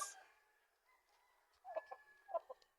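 Faint chickens clucking at a distance on a small farm, a few short clucks toward the end over a quiet background hum.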